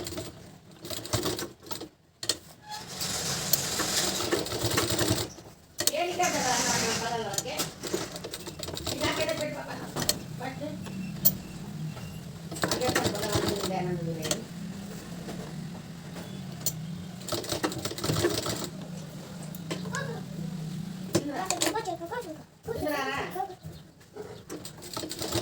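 An electric sewing machine runs double stitches on lace in bursts of rapid rhythmic whirring and clatter, stopping and restarting. Someone talks over it throughout, and faint bird cooing sounds in the background.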